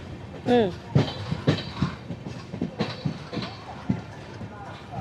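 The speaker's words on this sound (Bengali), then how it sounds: "মধুপুর জংশনে আমাদের ট্রেন ঢুকছে।" An Amrit Bharat express from Sealdah toward Benaras rolls into Madhupur Junction, its wheels clacking over rail joints in a steady uneven rhythm beneath a low interior rumble, with voices talking nearby throughout.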